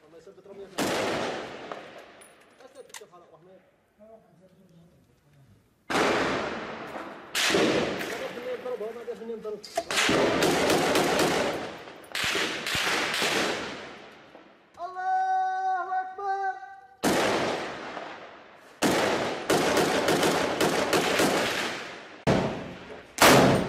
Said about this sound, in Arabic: تستمر الاشتباكات على قدم وساق لتكون جبهة العامرية الجبهة الثانية المشتعلة